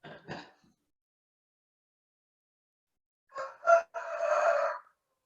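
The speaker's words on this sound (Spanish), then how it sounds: "Ay, que son un gallo, qué bonito. Es mi gallito." A rooster crows in short harsh bursts: a brief call at the start, then after a long silence a clustered run of strident notes ending in a sustained drawn-out crow, loud and close, with no talk over it.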